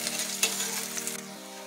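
Steady sizzle of onions frying in a pan, a continuous bright hiss with a low hum underneath and a brief clink partway through.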